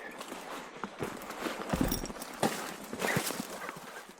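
Pack goats pass along a high-country trail beside water and yellow aspens, their hooves tapping out an irregular run of close, fairly loud steps on the ground.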